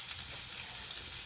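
Onion sizzles and fries in a soup pot, a steady, close crackling hiss with no talk over it.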